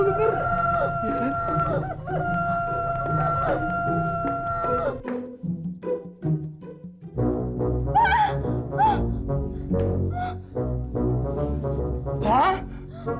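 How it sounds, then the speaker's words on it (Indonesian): Many chickens and roosters crow and cluck loudly at close range, with long repeated crows early on, then a dense, overlapping flock chorus with short bursts of talking mixed in. "Papa tuh gak pernah denger suara ayam, apalagi sebanyak itu."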